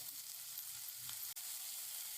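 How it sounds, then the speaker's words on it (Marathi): Ginger, garlic and coconut paste sizzling in hot oil with browned onion for a traditional sandgyachi bhaji, a steady soft crackling fry with a brief stir and a sharp click midway. "आता आपण यामध्ये अद्रक, लसूण आणि खोबरं टाकलेली पेस्ट आहे ती परतून घेऊया."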